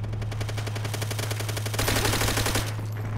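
A Type 100 submachine gun in Call of Duty: World at War fires long rapid bursts, evenly spaced shots rattling close and loud over a low steady hum, then stopping abruptly near the end.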